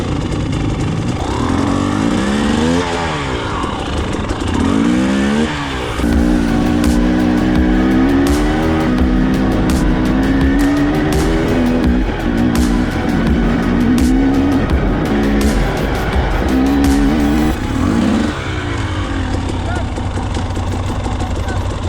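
A single-cylinder 300cc two-stroke enduro motorcycle revs hard and close, its loud engine rising and falling in repeated bursts through the whole stretch, with a few brief voices over it.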